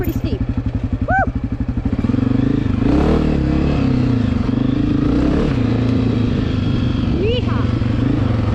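A dirt bike engine labors and revs loudly while climbing a steep hill, its throbbing growl close and continuous, with a rider whooping and talking over it.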